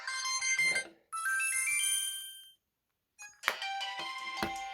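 Dozens of mobile phone alarms and ringtones from makes such as Samsung, Sony Ericsson, LG and Nokia ring at once, a loud layered jangle of tones that cuts out briefly before several more start again.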